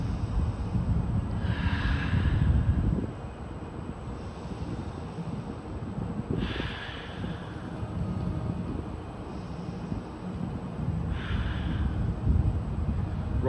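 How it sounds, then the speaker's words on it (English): Slow, deep breaths during a floor stretching exercise with a knee injury, three long airy exhales spaced several seconds apart, close to the microphone over a constant rumbling background noise. "3 deep breaths."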